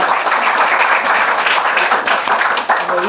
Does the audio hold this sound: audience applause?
yes